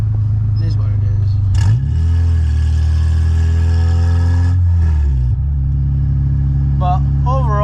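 A Honda K20-swapped car runs with no exhaust fitted, its loud raw engine droning up close, revving up sharply, holding high, then dropping back to a rough, heavy idle.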